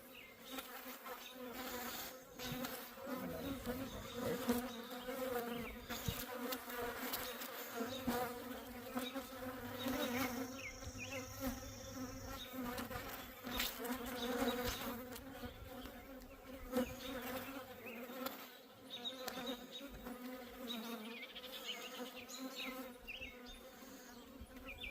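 Honey bees buzz around a homemade beehive made from trash during a strong nectar flow, a dense, continuous close-up hum with individual insects passing near and away.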